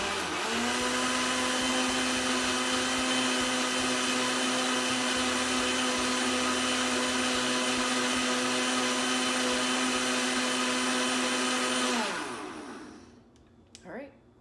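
A blender, weaker than a Vitamix, whirring at a strong steady pitch through a matcha green tea smoothie for about twelve seconds before winding down, loud and close, with no speech over it.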